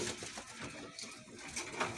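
Many pet canaries kept for breeding chirp together in a busy, continuous twittering chorus, dense and fairly steady, with no voices over it.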